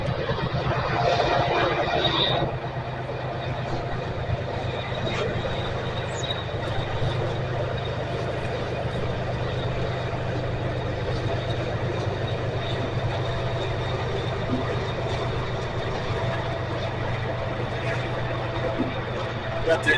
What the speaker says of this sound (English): Got to excuse that train, ain't nothing I can do about it.